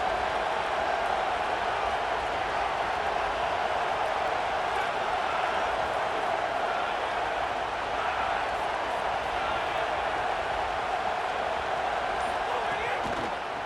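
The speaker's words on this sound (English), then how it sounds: "This crowd trying to make life miserable for this offense." A stadium crowd roars in the video game EA Sports College Football, a loud, steady wash of cheering and noise that fills the scene without letup.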